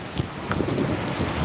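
Heavy late-afternoon rain pours down in Papua with rumbling thunder, a dense steady roar of downpour and low booming undertones throughout.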